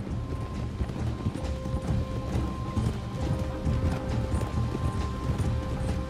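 Horse hooves clip-clop steadily at close range in Red Dead Redemption 2, a continuous rhythmic trot over dense background game ambience with faint tonal hums.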